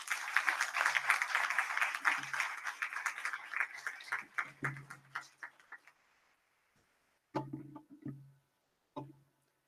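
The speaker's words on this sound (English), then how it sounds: "they deserve a big round of applause" Audience clapping after a lively student performance, a dense burst of claps at the start that thins into scattered, sparser claps and dies away, with a few isolated claps near the end.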